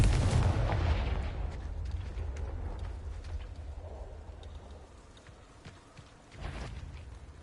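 Confringo blasting spell exploding in Hogwarts Legacy, a loud low boom that rolls off and decays over several seconds, followed by a second, smaller thud.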